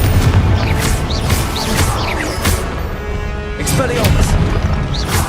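Confringo blasting spell explosions in a wizard game, a chaotic run of loud booms and crashes with sharp magical zaps layered over a busy, dense background, with a voice shouting at times.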